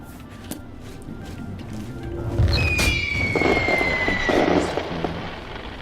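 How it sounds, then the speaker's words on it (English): A fireworks spell cast in the video game Oblivion gives a whistling, rising streak followed by crackling bursts over low game ambience, moderately loud and lasting a few seconds. "There's even a fireworks spell here."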